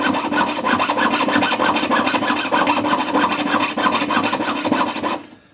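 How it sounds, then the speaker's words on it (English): A jeweler's saw cuts metal close to a bezel and wire in rapid, even back-and-forth rasping strokes, loud and close, then stops abruptly at the end. "You can use the saw for this. Saw it to within about 1/2 millimeter of the bezel."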